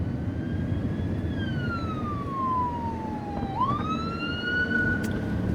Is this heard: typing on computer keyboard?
no